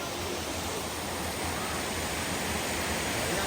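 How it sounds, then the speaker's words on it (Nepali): Waterfall at Sisneri, a steady broad rushing roar of falling water, constant and fairly loud with no other sounds. "वाउ वाटरफल हेर्नु"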